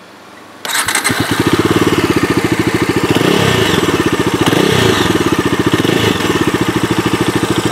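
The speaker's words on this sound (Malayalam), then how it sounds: "അപ്പം ഇതാണ് ഇതിൻ്റെ എക്സോസ്റ്റിൻ്റെ സൗണ്ട് വരുന്നത്" A 2021 Bajaj Dominar 250 BS6 motorcycle starts up after a short crank, then settles into a loud, steady, close exhaust idle with a rapid, even pulsing beat.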